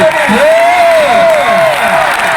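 A crowd claps and cheers at an outdoor tug-of-war competition, a steady wash of applause while an amplified announcer's voice carries over it.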